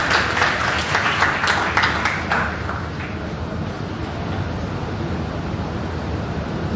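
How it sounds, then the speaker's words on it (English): An audience applauds at an Indian High Commission event, a dense burst of clapping that is strongest in the first two and a half seconds and then thins into a soft room wash. "Please give her a round of applause of the Indian High Commission."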